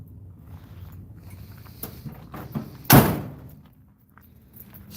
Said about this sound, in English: Nice, good closing doors.